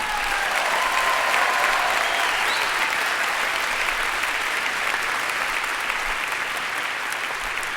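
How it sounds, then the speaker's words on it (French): An audience applauds continuously at a religious testimony gathering, a dense, even clatter of many hands lasting the whole stretch. "Bravo, on peut les applaudir."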